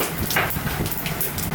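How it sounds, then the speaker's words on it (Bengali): Panch phoron spices crackle and sizzle in hot oil for a Bengali shukto, dense popping frying noise with sharp bursts of spattering, close and fairly loud, no talking. "তেলও গরম হয়ে গেছে। একটু পাঁচফোড়ন দিয়ে দেবো।"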